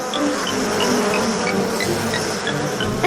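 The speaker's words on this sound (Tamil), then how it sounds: "குட்டி தேனீகள்" Cartoon little bees buzzing in a continuous close drone with a fluttering, slightly wavering tone, steady and moderately loud for a few seconds, with no speech.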